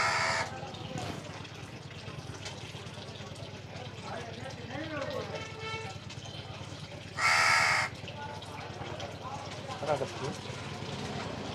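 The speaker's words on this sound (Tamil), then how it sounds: "காக்கா வந்து இங்கே உட்காந்து" A crow caws repeatedly nearby, with one loud burst of caws standing out over steady background noise and running water.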